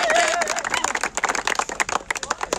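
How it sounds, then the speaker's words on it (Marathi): An audience claps for a cricket player at a night cricket tournament prize event. Brisk, uneven claps come close and loud, with voices mixed in. "रजतसाठी टाळ्या होऊ द्या"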